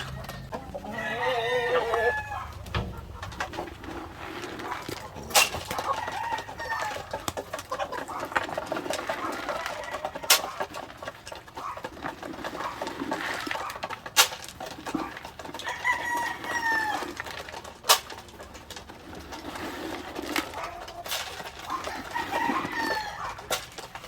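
White leghorn cross chickens in a backyard coop clucking and calling continuously, several birds overlapping at close range with a rooster crowing now and then; no voices.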